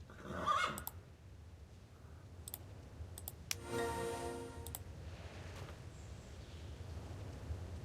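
A horse whinnies in the video game Mistfall, a short bright neigh near the start followed by scattered clicks and a longer tonal cry in the middle, all over a low steady ambient bed with no talk.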